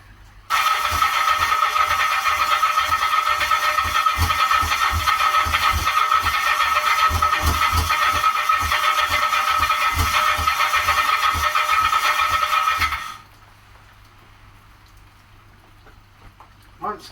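A Kawasaki GT750 motorcycle engine turns over repeatedly for about twelve seconds with rapid, rhythmic cranking pulses that never catch, then cuts off abruptly into near silence.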